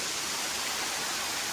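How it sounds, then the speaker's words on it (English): Steady rushing water in a cave whose chambers were carved by a waterfall, a continuous broadband wash of dripping and running water with no distinct individual drops standing out. "There's water dripping down over there."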